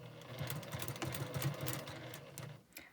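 Sewing machine stitching fabric triangles for a quilt block, a steady close mechanical whir with rapid needle ticking running for a few seconds before slowing and stopping.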